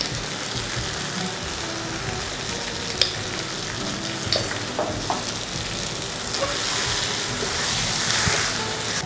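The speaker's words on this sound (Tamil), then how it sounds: "இந்த சேப்பங்கிழங்கை மறுபடியும் போட்டு ஒரு வதக்கிக்கோங்க" Taro root sautéing in a pan with onion and tomato, giving a steady close-up sizzle and frying hiss with a few light clinks from stirring.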